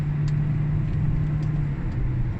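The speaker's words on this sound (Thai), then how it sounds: "เดี๋ยวจะเร่งแซงให้ดู นี่ไม่ได้ดึงเกียร์ช่วยเลยนะ" A Toyota C-HR hybrid accelerates hard to overtake, giving a steady, close engine and road rumble with a constant low drone and no speech.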